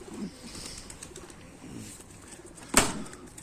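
Soft pigeon coos murmur faintly near and far, broken by a sudden sharp flutter of wings close by.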